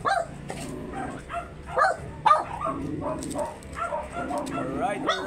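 Very small Shih Tzu at a stud session in Pangasinan gives several short yaps and whimpering barks close by, scattered irregularly among people talking at the same time.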